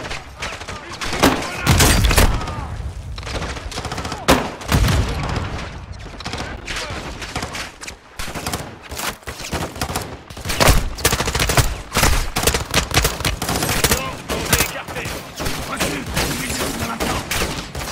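Dense gunfire in Call of Duty Modern Warfare 2 against shielded, armored enemies, with rapid overlapping shots, bursts and thuds continuing loudly throughout, mixed with game voices.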